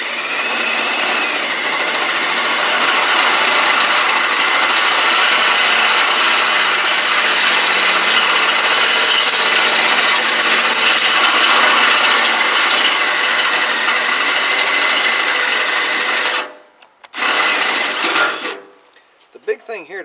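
A power drill boring holes in the bottom of a Billy Goat debris loader, a loud steady whirring grind that runs for about sixteen seconds, then cuts off, restarts briefly and stops.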